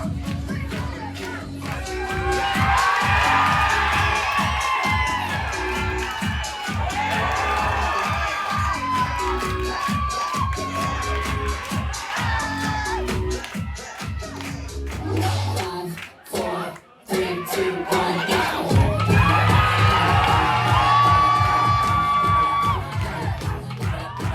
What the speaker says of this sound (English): The crowd went wild, hollering and cheering throughout